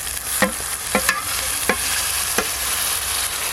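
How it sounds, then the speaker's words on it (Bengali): Grated tomato hits a frying paste of ginger, garlic and onion in a hot pan, a steady sizzle broken by several sharp stirring scrapes, close and alone. "আদা রসুন আর পেঁয়াজ বাটা বেশ ভালো করে ভাজা ভাজা করে নিয়েছি। এবার গ্রেট করে রাখা টমেটো দেব"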